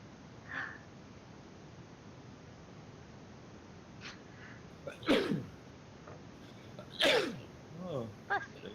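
Two sharp sneezes a couple of seconds apart, close and fairly loud against a quiet room, with faint murmuring around them.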